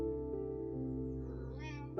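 A cat meows briefly near the end, a single short call over steady low background hum in a quiet indoor room.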